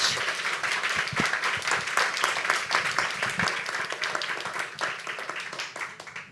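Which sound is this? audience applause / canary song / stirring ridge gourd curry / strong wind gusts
audience applause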